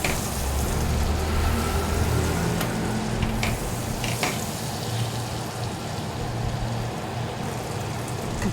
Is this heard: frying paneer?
yes